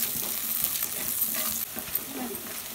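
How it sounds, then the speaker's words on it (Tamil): Onions sautéing in a clay pot with cinnamon and bay leaf, a soft close sizzle with a few light stirring scrapes over a short moment, no speech. "வெங்காயம் போடுறேன் வெங்காயம் வதங்கிறது"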